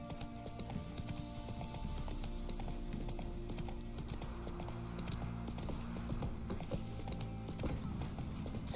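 Horse hooves clip-clop steadily as a rider travels through The Witcher 3 video game, with faint game ambience and no speech, the hoofbeats quiet but continuous and even.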